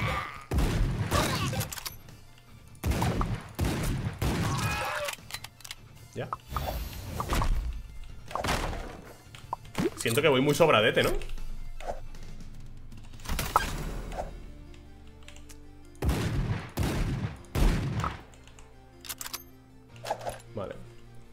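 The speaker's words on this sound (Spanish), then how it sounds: "Uno, dos, tres, cuatro, cinco disparos me aguanta el toro." Gunfire and impacts in the action game AK-xolotl: bursts of sharp, booming shots and heavy thuds come in clusters with gaps between, while someone talks over and between them.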